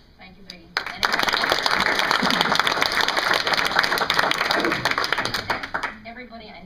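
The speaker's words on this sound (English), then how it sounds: "If you could hold the applause until everybody has done" Applause breaks out at a town council meeting: after a brief quiet start, a room of people claps loudly and steadily for about five seconds, then it thins to a few scattered claps and fades.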